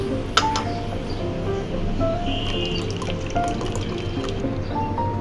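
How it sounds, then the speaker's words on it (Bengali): Cold water is poured into a mixture being beaten, trickling and dripping close by, with small splashes and a faint steady background hum. "এবার অ্যাড করব একটু ঠান্ডা জল।"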